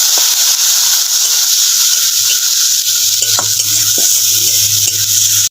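A thick spice paste with ginger sizzles in oil with a constant hiss, broken by occasional scraping stirs of a spoon against the pan.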